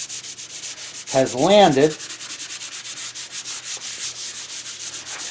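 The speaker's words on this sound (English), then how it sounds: "Been doing a little sanding." Rhythmic back-and-forth scratching of 220-grit sandpaper on a copper beech tray coated in amber shellac, steady strokes throughout, briefly interrupted near the start by a short spoken phrase.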